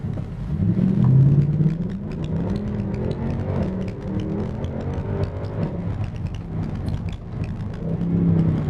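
A Mercedes C65 AMG car accelerates and revs, its engine note rising and falling through several surges, loud and close with no talk.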